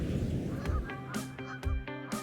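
Canada geese honk repeatedly outdoors, several loud nasal calls stacked with clear harmonics, some overlapping, over a low background rumble.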